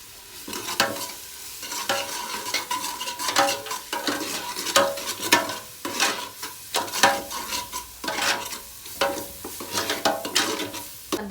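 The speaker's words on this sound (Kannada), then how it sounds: "ಅದ್ರ ನೆಕ್ಸ್ಟ್ ಮೂಮೆಂಟೇ ಶುಂಠಿ ಬೆಳ್ಳುಳ್ಳಿ ಪೇಸ್ಟ್ ಹಾಕೊಳ್ತಾ ಇದ್ದೀನಿ" Ginger garlic paste frying in a pan for Coorg-style chicken biryani, with repeated close scraping stirs and a constant crackling sizzle over about eleven seconds.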